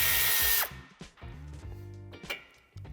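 A power tool runs loud for about half a second, removing the nut that holds the bumper antenna on a 2014–2017 Škoda Octavia Scout III during a towbar fitting, then gives way to softer clicks and scraping from the work.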